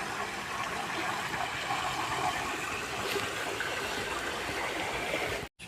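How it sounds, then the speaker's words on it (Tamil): Continuous rushing water from a motor pump pours and splashes from a tank on a farm garden, steady and even like a strong outflow, cutting off briefly near the end. "தண்ணி பாருங்கள், தொட்டியிலேருந்து தண்ணி"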